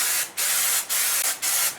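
Undercoating sprayed onto the modified floor of a 1948 Ford body being swapped onto a Ford Ranger, heard as four loud, steady hissing bursts separated by short pauses.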